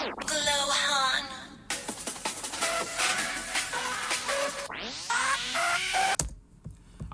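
The intro of a hip-hop beat, made in FL Studio in double-time, plays as bright melodic synth phrases with a sweeping riser, then cuts off abruptly at the end.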